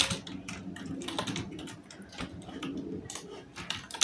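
Fingers type on a computer keyboard during graphic design work, a close, steady patter of quick key clicks with a few heavier taps and no talking.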